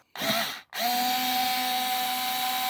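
A small powered driver spins out an inverter cover screw on a Deye 6 kW unit with an H2.5 hex bit, a brief whir, a short pause, then a steady, loud motor whine held close by.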